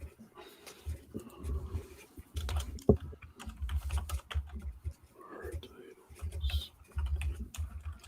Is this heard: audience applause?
no